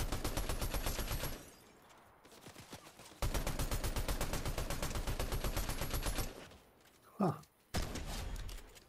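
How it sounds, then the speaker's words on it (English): Shotgun blasts and gunfire ring out in Fortnite combat against a thug, loud bursts filling most of the stretch with a brief lull partway through and a short vocal sound near the end. "Two shots of the shotgun to kill a thug."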